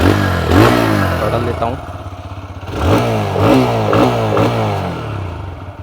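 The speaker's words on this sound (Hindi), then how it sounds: "आइडियल कंडीशन पर इंजन साउंड, एग्जॉस्ट नोट" A 125cc motorcycle engine runs with a pulsing exhaust note that rises and falls in short revs, close by, with someone speaking briefly over it.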